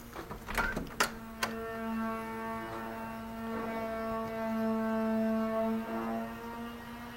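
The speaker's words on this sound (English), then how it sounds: "That is the sound of them working on the elevator." Workers sand wood trim inside a hotel elevator with faint scraping and a few sharp knocks early on, under a steady mechanical drone that lasts throughout.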